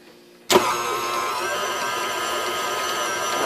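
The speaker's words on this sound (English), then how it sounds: "so you don't have to hear the KitchenAid mixer running" A KitchenAid stand mixer switches on abruptly and runs with a loud, steady motor whine and hum, close by and constant, while meatloaf is being made.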